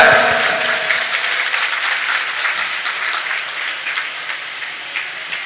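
Audience applause at an Indonesian gathering about welcoming Ramadan, a dense burst of clapping that starts loud and slowly fades over several seconds, with no voices on top.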